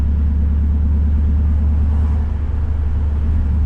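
A 1950 Ford F1 truck with a roughly 300-horsepower small-block 350 V8 idles steadily and loud, a deep even rumble holding throughout with no voices.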